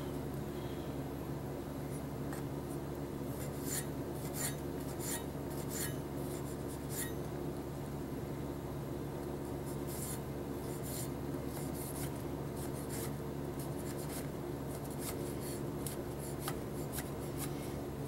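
A knife dices a Black Prince heirloom tomato into small cubes on a board, with soft, repeated chopping taps and scraping strokes at an uneven rhythm, close and fairly quiet.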